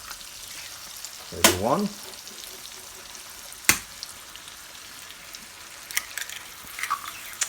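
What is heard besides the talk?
eggs frying in margarine in a pan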